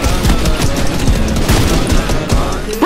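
Rapid bursts of automatic gunfire and explosive booms from a Fortnite match, loud and continuous, with repeated sharp shots layered over a dense battle din and a rocket-propelled grenade impact amid the fusillade.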